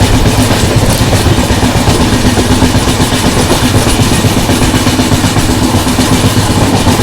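The Andhra Pradesh Express from Visakhapatnam to New Delhi rolling along the line, a loud, steady, close rumble of wheels and carriages with a faint rhythmic clatter throughout and no voices.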